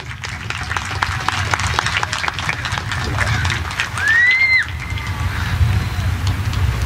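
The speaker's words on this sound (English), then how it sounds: "Please, a round of applause." A crowd at a 2022 high school graduation ceremony applauds a student, a steady wash of clapping heard from a distance with a faint whistle partway through.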